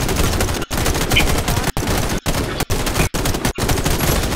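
Rapid, loud sniper and automatic gunfire in the shooter game Warface on the Nintendo Switch, a dense barrage broken by several short gaps.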